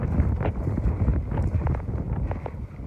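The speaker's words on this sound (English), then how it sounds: "Feel the breeze. The wind." Wind gusts across an open outdoor spot, a steady rough rumble buffeting the microphone with a few faint knocks underneath, no voices.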